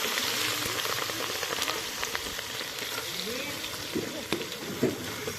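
Dal tempering crackles and sizzles steadily in hot oil, a dense close hiss through the whole stretch with faint voices in the background.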